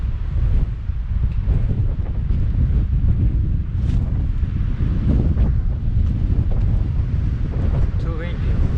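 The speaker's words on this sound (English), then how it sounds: "too windy" Strong wind buffets the microphone outdoors on a warm, gusty day, a loud, continuous low rumble with brief faint voices underneath.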